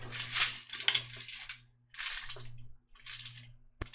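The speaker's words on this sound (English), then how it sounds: "I just grabbed my car keys." Car keys jingle in a few short metallic bursts close by, with small clinks and rattles separated by brief pauses and a sharp final tap.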